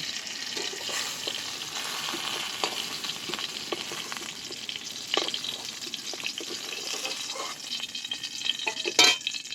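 Whole pointed gourds fry in hot oil in a pan, a steady bright sizzle running throughout with occasional louder pops and spatters, close and continuous with no one speaking.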